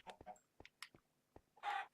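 Chickens clucking on a farm in Minecraft Console Edition, a quick series of short close clucks and squawks ending in a louder, longer squawk, heard alone without talk.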